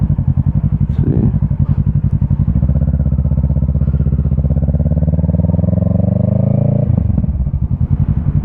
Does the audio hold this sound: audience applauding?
no